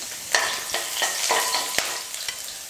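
Chopped garlic and a sliced green chilli sizzle in hot oil with mustard seeds, a close, bright frying hiss broken by several sharp spatula strokes against the pan.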